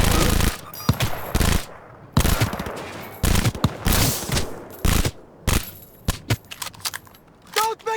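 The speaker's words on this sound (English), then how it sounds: "They're opening fire!" Gunfire in the video game Cyberpunk 2077, with repeated loud bursts of automatic shots broken by short pauses, close and dense.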